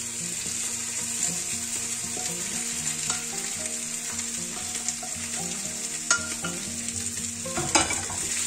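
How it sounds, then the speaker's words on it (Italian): Meat and potatoes fry together in a pan, giving a steady, close sizzle with repeated scraping and clinking as they are stirred. "Arrivati a questo punto a cottura, uniamo la carne alle patate."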